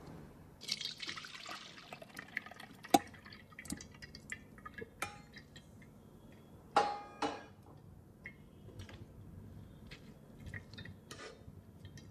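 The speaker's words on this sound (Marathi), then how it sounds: "आपले सोयाबीन वडे बॉईल झालेले आहे चांगल्या पद्धतीने. आता आपण हे गाळून घेणार आहोत." Water drips and trickles as boiled soya chunks are strained in a kitchen. Sparse splashes and sharp drops fall against a quiet background, with a couple of louder pours.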